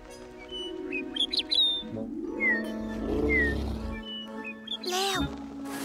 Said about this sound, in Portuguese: o bondoso passarinho levou o urso para casa e cantou uma canção de ninar para ele